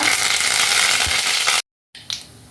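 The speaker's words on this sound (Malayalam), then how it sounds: "കടുക് പൊട്ടി വന്നിട്ടുണ്ട്" Mustard seeds pop in hot oil with curry leaves, a steady, loud sizzle with crackling pops, cut off abruptly by a short silence, then a few quieter sputters.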